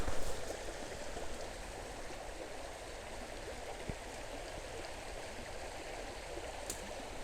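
A creek flows past a campsite with a campfire at Choke Creek in Pinchot State Forest, a steady soft rushing and burbling of water that holds constant and fairly quiet throughout, with a faint click or two.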